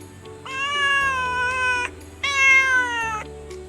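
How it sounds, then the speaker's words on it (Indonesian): Two drawn-out meows from a recorded cat, loud and close, with a short pause between them and no talking. "Suara kucing."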